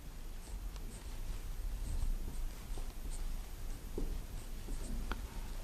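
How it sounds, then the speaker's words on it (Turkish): Steady, close scratching of writing words on a board, a continuous rasp with small taps and strokes, with no talking. "Mesela önce Latincelerini yazalım arkadaşlar."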